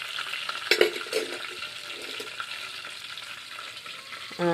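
Dal cooked with tomato, onion, salt, chili and turmeric fries in a pan with a steady, fairly quiet sizzle, broken by a few louder crackles and stirring scrapes early on.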